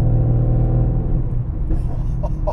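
A 2017 Mercedes C63S AMG engine gives a deep, loud rumbling idle that rises briefly as the throttle is blipped gently, close and steady with a slight lift toward the end.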